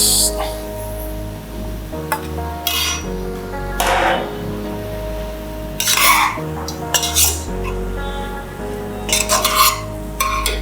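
Chicken gravy spices stirred in an AMC cookware pot: repeated scraping strokes and metallic clanks of a spoon against the pot, in irregular bursts over a steady background hum.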